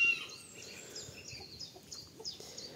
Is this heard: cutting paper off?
no